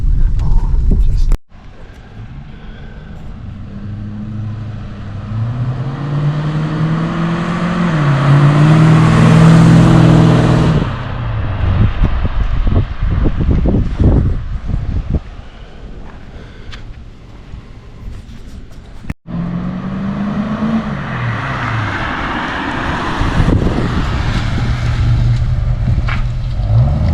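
A Ford AU Fairlane with 228,000 km on it drives fast, its engine revving up and dropping back with whooshing road and wind noise, while someone speaks over it.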